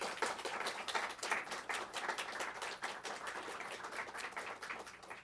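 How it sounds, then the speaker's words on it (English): Audience applause at a press conference, a dense, steady patter of many hands clapping that fills the whole stretch at an even level. "I want you to join me in giving him an enthusiastic round of applause"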